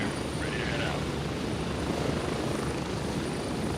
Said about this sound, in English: Apologize for the helicopter noise.